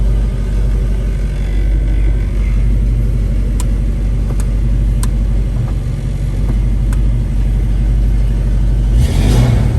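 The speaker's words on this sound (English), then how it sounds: "Car sounds excellent." A 1970 Ford Mustang Mach 1 V8 idles loud and close with a deep steady rumble, a few sharp clicks over it, before a brief rev swell near the end.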